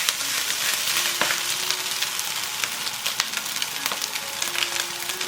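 Loosened cooked rice hisses and crackles in a hot wok as it is stir-fried for beef and Chinese kale fried rice, a loud, continuous close sizzle with scattered scraping ticks and no talking.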